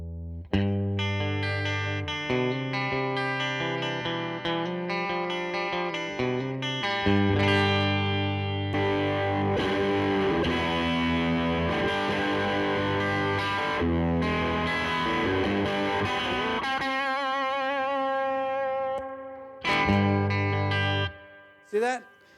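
A Tone King Imperial MK II guitar amp switching between lead and rhythm channels, with its attenuator engaging and bypassing, guitar chords and melodic lines shifting between cleaner and driven, effected tones, close and sustained, with no talk over the playing.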